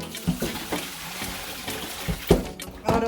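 A brined turkey is lifted and strained out of its liquid, giving soft splashing, dribbling and trickling water with a few louder sloshes, fairly quiet and close.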